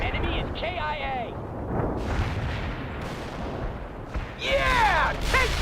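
Heavy bomb blasts in the war game World in Conflict, a string of deep booming explosions rolling through the scene, with radio-style voices talking over the blasts.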